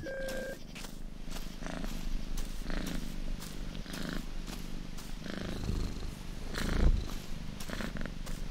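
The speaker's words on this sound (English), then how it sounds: "I hear cat." A cat purrs in the game Nextbot Graveyard, a rhythmic, pulsing rumble repeating steadily, close and clear, with a louder thump near the end.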